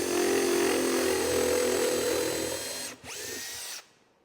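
A power drill fitted with an iCARB countersink bit cuts deep into oak, whining steadily and loudly at close range for about three seconds before a brief dip and spin-down to silence.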